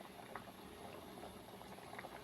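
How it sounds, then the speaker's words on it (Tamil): Tamil lentil ball curry, paruppu urundai kuzhambu, simmers and bubbles in a pot, a steady soft burble of popping bubbles, close but quiet and continuous, with no talking. "உருண்டை சேர்த்த பிறகு கலந்து விட்டு கொஞ்சம் கொதிக்கட்டும்."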